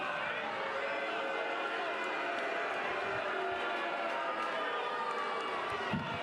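A college baseball stadium crowd at a Mississippi State versus Oklahoma game murmurs and buzzes steadily, a broad, distant hum of many voices reacting to the plays, with no single shout standing out.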